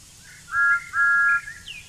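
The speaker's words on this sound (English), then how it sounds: "And Thomas whistled back." A steam tank engine's whistle sounds as two sustained, clear tones of roughly a quarter and half second each, fairly loud and alone, with a softer rising toot trailing after.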